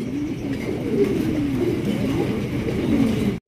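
Pigeons at a large pigeon farm, including red indigo birds, coo continuously in overlapping low, throaty calls, close by and steady throughout.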